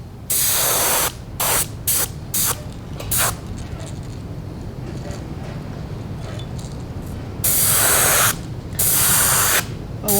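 An airbrush or spray gun lays a solid white base coat onto crappie fishing lures, several loud hissing bursts of varying length with short pauses between them, close to the listener.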